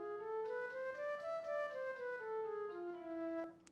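Single melodic instrument plays an altered major (Freygish mode) scale, rising then falling note by note, quiet and smooth, with sustained tones blending into each other; no voices.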